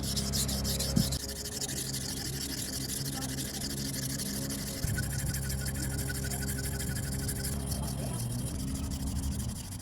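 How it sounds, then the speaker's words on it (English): A knife is ground on a King Hyper 1000 sharpening stone, a continuous gritty rubbing and scraping in steady back-and-forth strokes, close and even in level. "let's sharpen this knife on it and see how it performs"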